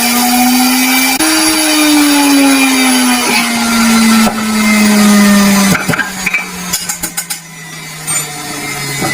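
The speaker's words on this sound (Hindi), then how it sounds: "इसको यहाँ पे रख के इसको बारीक ग्राइंड कर लें।" An electric grinder whirs loudly, finely grinding tartaric acid and spices for a chicken sajji recipe, its motor pitch sliding steadily lower before it stops and sputters in a few short bursts.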